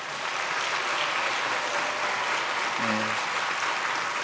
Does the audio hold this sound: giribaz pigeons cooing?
no